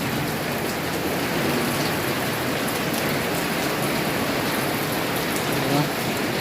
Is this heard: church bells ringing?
no